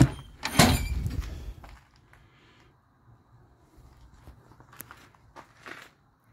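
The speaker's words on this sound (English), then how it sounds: "open the door up here" A vehicle door being opened during a Class 3 truck's exterior pre-trip inspection: a close burst of latch clunks and rattles at the start, followed by faint handling clicks and rustles.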